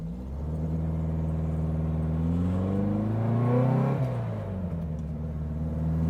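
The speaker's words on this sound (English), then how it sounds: "Car shifts perfectly." A 1960 Porsche 356 Abarth tribute drives on the road, its engine droning steadily and rising in pitch before a gear change near the end drops the revs. The sound is close and continuous, with no talking.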